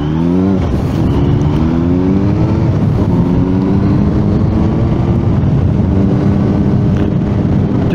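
A Suzuki GSR 600 motorcycle engine hums loud and steady while riding, with revs climbing and settling through gear changes and constant wind rush, no talking.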